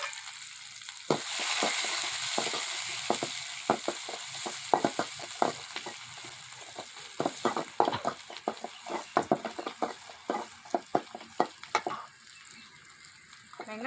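Chopped onions drop into hot oil already crackling with dried red chillies for tempering a ponnanganni greens kuzhambu, giving a loud steady sizzle that breaks into dense popping and spattering crackles, close up with no talk.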